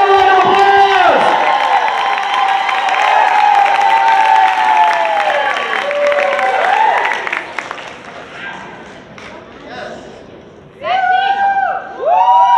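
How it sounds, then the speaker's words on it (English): Audience cheering and applauding for dancers at a salsa and bachata congress, a loud sustained crowd roar with shouts and claps that fades briefly near the end before another burst of cheers. "Give them an applause."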